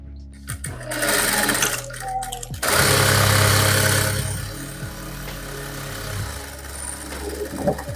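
A sewing machine stitching the seams of salwar fabric runs in close, loud bursts of rapid mechanical chatter, with short stops and restarts and a faint knock or two between runs.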